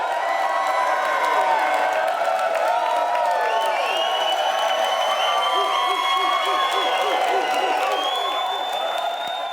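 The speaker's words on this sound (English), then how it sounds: "Thank you, pre-recorded crowd" Pre-recorded crowd cheering and applause, loud and steady throughout, with dense clapping, whoops and shouts layered into a continuous roar of a large audience.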